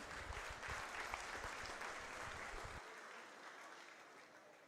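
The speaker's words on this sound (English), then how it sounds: "Give them another round of applause" Audience applause at a 4-H county fair showmanship program, with a crowd clapping steadily and fairly faint in the distance. The low thumps drop away partway through and leave a softer clapping wash.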